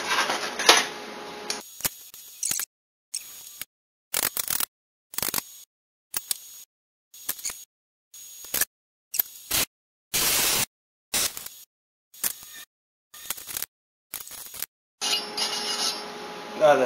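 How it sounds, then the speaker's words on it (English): Stick welding on a round exhaust pipe for a Coleman Powermate generator, heard as bursts of harsh crackling arc sizzle broken by short silent gaps, close and loud with no talk. "That is some ugly welding"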